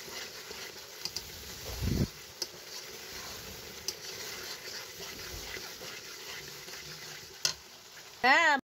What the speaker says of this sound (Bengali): এগুলো দিয়ে এবার খুব ভালোভাবে মশলাটাকে কষিয়ে নেব।